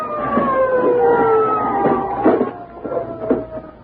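A police car siren sound effect from an old-time radio drama wails loud and close, rising and falling in steady sweeps with no voices over it.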